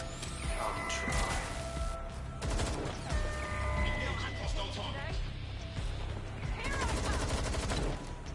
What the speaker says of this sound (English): The shooting!